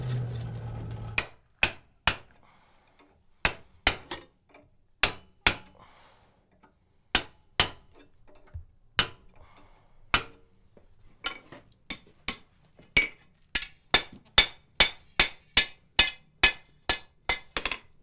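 A hammer rings on hot iron while a fleur-de-lis strap hinge is forged, with sharp metallic strikes landing alone at first in spaced pairs, then quickening into a steady run of close, bright blows.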